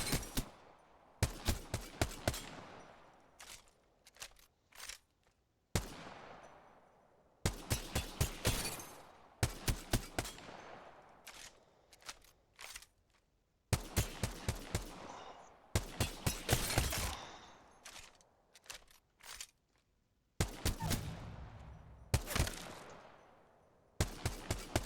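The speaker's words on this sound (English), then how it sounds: "I line up my first target, and then I'm just going to shoot 5 rounds." G7 Scout rifle fire in Apex Legends comes as repeated bursts of about five sharp, evenly spaced shots, each burst followed by a short pause, with a reload-like clatter between groups, all loud and close.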